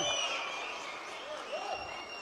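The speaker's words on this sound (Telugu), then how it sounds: "ఒక్కసారి అందరూ చప్పట్లు కొట్టి కృతజ్ఞతలు తెలియజేయమని కోరుతా ఉన్నా" A crowd at a political gathering claps steadily throughout, moderately distant and fairly quiet, with no speech over it.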